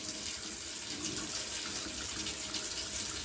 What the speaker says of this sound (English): I'm pouring the water off, and see how white and milky it is?